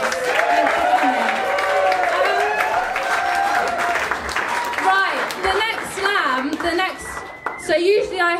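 A live audience at a poetry slam between Weston-super-Mare and Bristol claps and cheers, the applause running steadily under a speaking voice and swelling unevenly toward the end.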